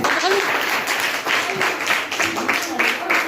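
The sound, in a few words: audience applause for the speaker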